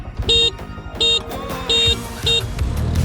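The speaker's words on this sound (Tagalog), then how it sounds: "Tatlo, tatlong busina." Several short motorbike horn honks, three in all, sound close by in a quick, uneven pattern over a running Honda Beat scooter engine.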